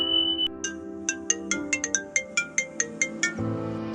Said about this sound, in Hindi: जंगकुक, तुम फोन क्यों नहीं उठा रहे थे?